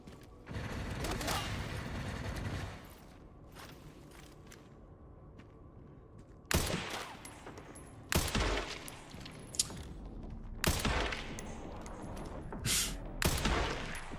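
Gunfire in Resident Evil 9, with a sustained burst of shots early on, then after a lull several sharp, loud separate shots at intervals, mechanical clicks in between.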